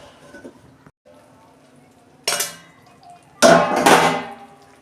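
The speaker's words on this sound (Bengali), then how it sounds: "আমি একটু ঢাকা দিয়ে দিচ্ছি।" A lid is set on a cooking pot of vegetarian stuffed pointed gourd, two sharp metallic clangs each ringing briefly, one soft and one louder, in a quiet kitchen.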